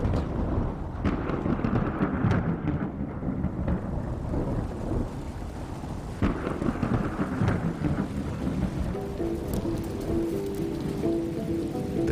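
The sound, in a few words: thunder and rain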